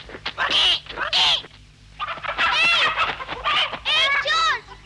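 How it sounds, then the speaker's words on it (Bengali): Cartoon chicken clucking in two short bursts, then a longer run of loud, squawky clucks and calls close up, with no talk. "মুরগি, মুরগি।"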